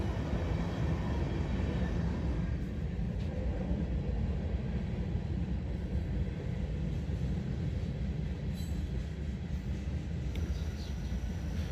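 CSX freight train hauling gondolas rolls past outdoors, a continuous loud rumble and rattle of wagons that holds steady from start to finish.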